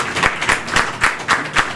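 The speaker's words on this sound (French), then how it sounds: "un gros applaudissement pour lui" Applause for an honoree at a ceremony marking an economic empowerment agreement, heard as loud, close rhythmic clapping in regular synchronized beats, roughly four per second, with no talk over it.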